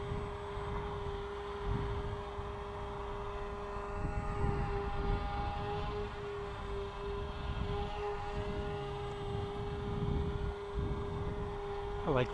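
RingRat 250 RC model airplane flying overhead, its steady electric-motor whine holding a constant tone at moderate distance over breezy outdoor noise throughout.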